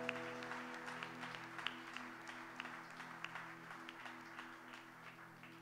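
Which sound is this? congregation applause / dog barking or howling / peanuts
congregation applause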